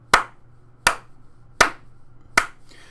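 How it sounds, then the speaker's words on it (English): Four sharp hand claps in a quiet room, evenly spaced and close, each one a loud, snappy hit that fades quickly. "Or if I clap"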